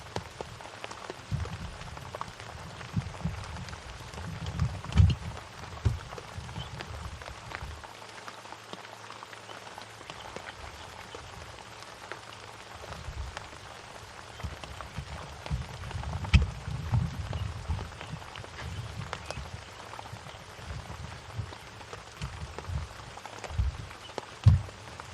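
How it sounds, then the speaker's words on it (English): Steady rain falls on thick bush at Ngala Private Game Reserve during a morning safari, a constant dense patter with louder drops and splashes throughout, no voices heard. "Rosie, the rain does sound nice, doesn't it? It sounds really peaceful."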